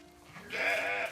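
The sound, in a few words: sheep bleating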